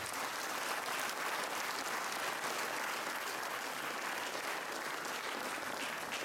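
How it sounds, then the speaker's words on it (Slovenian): A crowd at an anniversary celebration for a Karitas charity in Borovnica applauds steadily, with dense, even clapping that fills the room without a break. "dajmo en aplavz za Domen."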